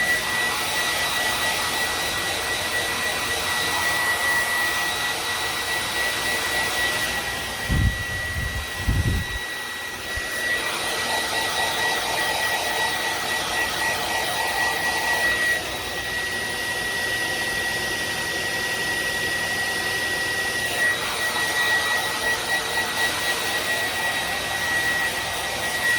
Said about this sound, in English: we're just going to take our hair dryer and help that dry